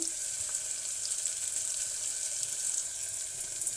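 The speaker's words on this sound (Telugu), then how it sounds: "ఈ పోపు చేసుకొని" Tempering for moong dal khichdi crackling in hot oil in a pan, a steady loud hiss and sizzle that runs continuously and close by, with no talking.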